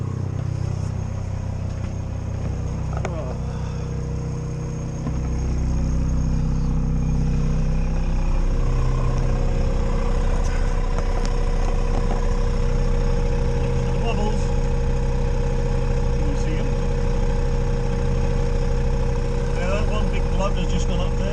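An engine with a cooling fault runs steadily throughout, its hum growing louder and fuller after the first few seconds and holding a constant drone to the end.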